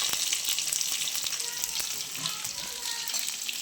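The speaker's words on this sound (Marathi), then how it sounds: "चांगलं तळून घ्यायचं आहे." Semolina-coated tilapia fish frying in hot oil, a steady dense sizzle with crackling pops running throughout, close and fairly loud with no voices.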